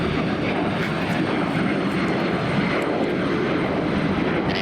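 A JetBlue airliner takes off at Raleigh-Durham International Airport with a loud, steady roar of jet engines, heard from the ground for the whole stretch, with no talking.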